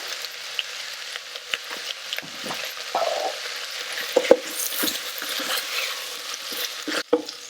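Green beans sautéing in a pan with red chili powder, with a steady close sizzle and repeated scraping stirs that spike irregularly, no voices.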